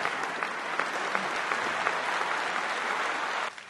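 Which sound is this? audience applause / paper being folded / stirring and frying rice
audience applause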